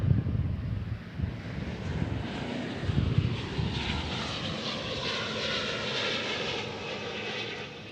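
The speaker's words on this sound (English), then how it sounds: "There's our A350 1000." An Airbus A350-1000 rolls down runway 18 right at Dallas Fort Worth International Airport, its engines a loud, steady roar mixed with wind buffeting the microphone, holding strong throughout with no talk.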